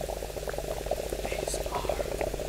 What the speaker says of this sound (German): Oh mein Gott, da entstehen so Blubberblasen.